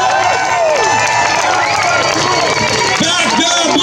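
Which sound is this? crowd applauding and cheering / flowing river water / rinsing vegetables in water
crowd applauding and cheering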